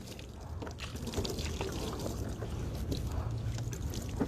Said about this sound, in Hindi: और सारा जिस्म पे पानी डाला जाए।